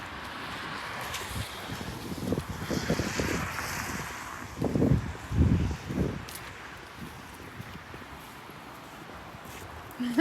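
Waves breaking at a beach by a campsite in a small French town, a dull rushing surf that swells in bursts, mixed with wind buffeting the microphone.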